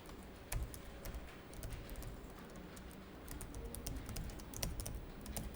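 Quiet, rapid clicking on a computer keyboard while accounting entries are typed into software for an exam practice task, with a few louder key presses standing out from the steady patter; no one talks.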